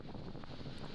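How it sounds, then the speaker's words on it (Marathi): Cyclone wind buffets the microphone in a dense, continuous roar, a brief loud rush during a storm with rain. "सोसाट्याने वाहणारा वारा आणि पडणारा पाऊस याची तीव्रता या दृश्यांमधून आपल्याला लक्षात येते."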